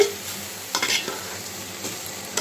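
Rice being sautéed with meat in a pan, a low steady sizzle with a few close stirring scrapes and light clinks of a spoon against the pan.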